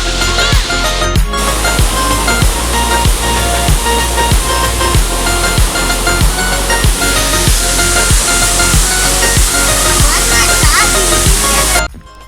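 A waterfall plunges from a height near Belagavi, its water roaring in a loud, constant wash with rhythmic splashing, close by, before cutting off abruptly at the end.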